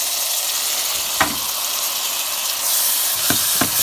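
Mixed vegetables tossed into a pan with onions for homemade egg fried noodles, giving a continuous hissing sizzle close by, punctuated by a few sharp spatula clinks and scrapes, with no voices.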